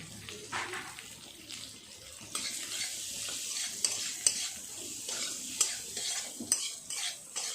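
Fish pieces for chilli fish, seasoned with salt, turmeric and chilli powder, are stirred in a frying pan: a soft sizzle under repeated scraping strokes and light clinks, close up.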